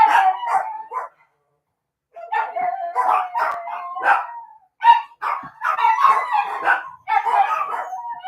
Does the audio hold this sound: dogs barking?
yes